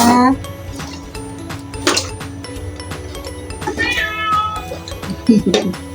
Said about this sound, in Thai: แมวมันร้อง คิดถึงแม่เหรอ